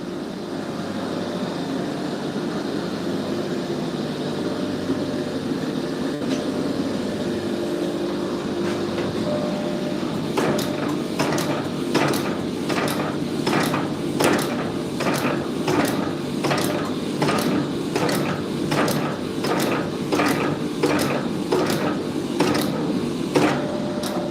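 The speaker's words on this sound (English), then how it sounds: "Just forging out this bar of laddered W's." Hammer blows forging a laddered W's steel bar for scissors, a rapid regular run of sharp metallic strikes starting partway through over a steady workshop hum, loud and close.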